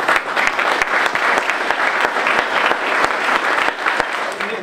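Sustained hall applause from the crowd honouring fire brigade jubilarians in Rooi, a thick even patter of many hands clapping with no talk over it.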